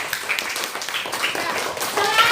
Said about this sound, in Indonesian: tepuk tangan untuk Tisha anak-anak